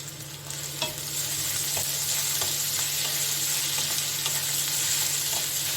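Crushed garlic and grated ginger sizzle in a pan with a little oil and onion while cooking a tomato and young jackfruit curry, a steady loud frying hiss broken by a few light clinks of stirring.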